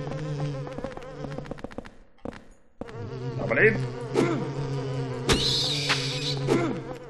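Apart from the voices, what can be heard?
annoying flies buzzing in the video game Silent Hill 4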